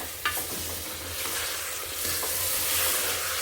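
Lentils fry in hot oil in a pan for beerakaya pappu, a close, steady sizzle with soft scraping stir strokes and no talking.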